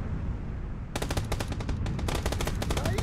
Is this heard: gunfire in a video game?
yes